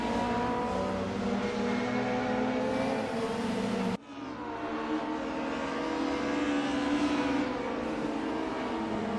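Race car engines roar continuously in a sim racing game at RR Raceway-Bridge, including a BMW in BP livery running alongside, loud and sustained with a sharp cut and shift partway through as the engine note climbs again.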